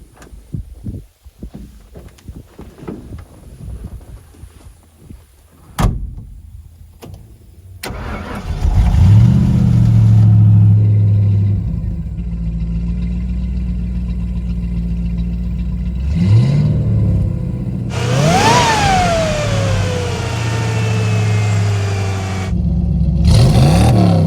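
Classic car engine cranking and starting after some handling noises, then idling with a deep steady rumble and a few sharp revs that rise and fall, close and loud, without talk.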